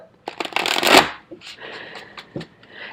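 A deck of tarot cards is shuffled up close in a quick riffling burst, then followed by a few softer card taps and slides.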